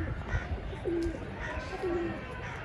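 Pigeon just back from flight cooing close by, with two short low coos rising out of steady outdoor background noise.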